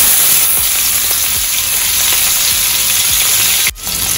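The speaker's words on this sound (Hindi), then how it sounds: "फिर मैं इसमें डाल रही हूँ जीरा, थोड़ी सी हींग, और अब मैं इसमें डाल रही हूँ 6 मीडियम साइज चॉप्ड हरी मिर्ची।" Cumin, asafoetida and chopped green chillies hitting hot oil, giving a loud, dense, continuous sizzle and crackle up close that cuts off sharply near the end.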